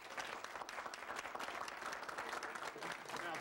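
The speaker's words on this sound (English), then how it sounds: "I think he deserves a round of applause" An audience at a tribute event applauds in a dense, continuous wash of hand claps that holds steady and full throughout, with a faint crowd murmur beneath.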